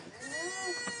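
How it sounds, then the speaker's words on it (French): A small goat bleats once in a single sustained, wavering cry, fairly close and clear against faint background noise at a nomad camp in Mongolia. "C'est une petite chèvre dehors qu'on entend."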